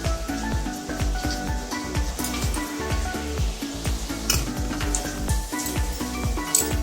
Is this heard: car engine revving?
no